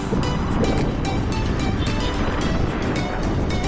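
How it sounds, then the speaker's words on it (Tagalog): Strong wind roars steadily across the microphone, a constant dense rush with broadband buffeting and no speech. "Medyo malakas yung hangin."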